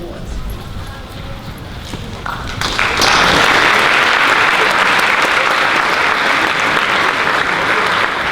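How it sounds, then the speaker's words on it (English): A high school senior awards ceremony audience breaks into loud, sustained applause that swells after a few seconds and keeps going, with talk at the start. "Very much for that nice applause."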